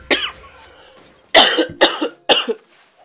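A commentator coughs close to the mic during a Turkish esports match broadcast: one short cough, a pause, then three harsh coughs in quick succession, each loud and abrupt.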